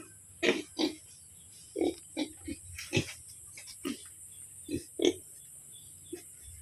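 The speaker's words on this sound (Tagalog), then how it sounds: "Ang ating baboy." Farm pigs grunt right after feeding, about a dozen short, close, throaty bursts spaced irregularly over a low steady background hum, with no talking.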